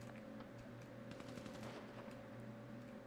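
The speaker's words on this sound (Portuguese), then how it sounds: "Pode rajar aí pro alto" A faint, distant burst of rapid automatic gunfire is fired into the air in a video game. The shots come as a quick rattling run under a low background hum.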